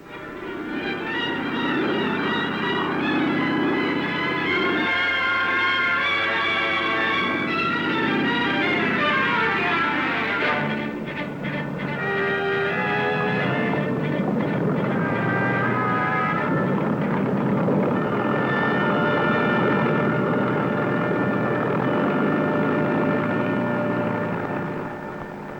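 A propeller airplane comes in low to land on a small pasture just past the Soviet border, its engine drone steady and loud throughout, with a shifting pitch as it descends and nears.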